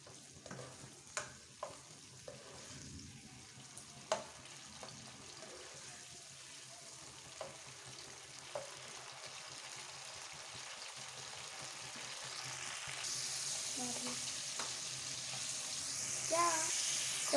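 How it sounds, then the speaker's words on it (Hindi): Sliced tomatoes fry lightly in hot oil in a pan, giving a faint, steady sizzle broken by a few soft clinks from stirring. The hiss grows brighter and louder toward the end. "टमाटरों को हम हल्का सा फ्राई कर लेंगे।"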